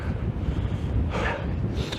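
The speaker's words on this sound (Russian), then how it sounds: "очень сильные порывы ветра" Strong wind gusts on Mount Koshka near Simeiz, buffeting the microphone with a continuous low roar that swells into a brief louder gust midway, close and rough, with no voices.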